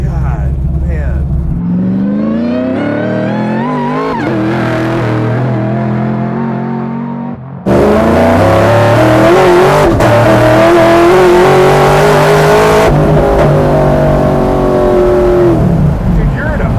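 Buick Regal and Grand National cars doing burnouts, engines loud and close, revving and roaring in long rising sweeps with one car taking over from another partway through.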